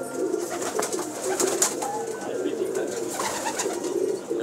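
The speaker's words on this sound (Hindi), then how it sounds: "ये सब बाजी वाले कबूतर हैं" Racing pigeons on a rooftop, a flock kept for competition flying, fill the air with steady cooing and soft bird calls over a dense, continuous background of chatter and noise.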